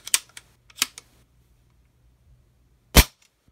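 A Diana Bandit PCP air pistol fires with sharp, fairly quiet cracks, a few small clicks of handling and then one crisp shot, all in a quiet room.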